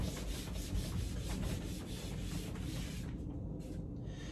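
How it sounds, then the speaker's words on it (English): Hand rubbing down the surface of an electric roller garage door to clear dust and dirt: a continuous, faint, scratchy rubbing with a steady texture. "we can just rub it and get anything off that's going to cause us any problems"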